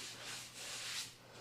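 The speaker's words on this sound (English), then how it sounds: "So that's about all the sanding I'm going to do." Steady, broad rasping strokes of sandpaper on a wooden stove cover, rising and falling in a slow back-and-forth rhythm, fairly quiet and alone.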